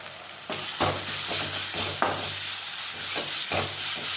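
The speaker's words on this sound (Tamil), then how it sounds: "அதையும் சேர்த்து அதனுடைய பச்சை வாசனை போகிற அளவுக்கு நம்ம வதக்கிக்கலாம்" Tomato sautéed in a pan with salt and curry leaves gives a steady sizzle, broken by repeated scraping stirring strokes at a loose, regular rhythm, close and fairly loud with no talking.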